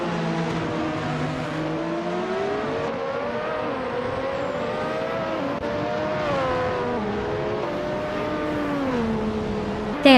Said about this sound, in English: Ixnobadixel is driving a Williams FW12, starting in 11th place